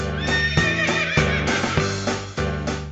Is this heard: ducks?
no